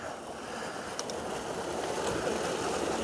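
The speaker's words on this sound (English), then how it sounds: "Water running out of there." Water pours out of an old hydro plant in a steady, broad rushing wash that keeps up without a break throughout.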